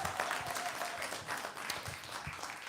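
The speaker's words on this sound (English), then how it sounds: "Let's give him a round of applause" A church audience gives a round of applause, steady crowd clapping throughout with a few scattered voices underneath.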